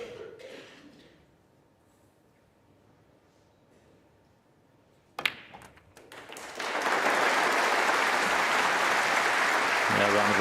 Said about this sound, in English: Yeah, round of applause, knowing he's past the 70. winning line in his frame.